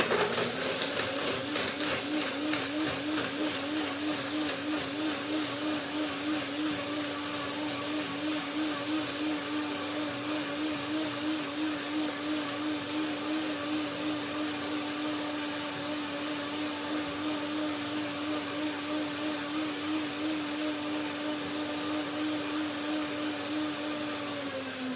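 A blender whirs steadily at high speed, churning apricot, banana, sesame seeds, cashews and water into a curd, a loud continuous motor drone with a slight wavering pitch throughout.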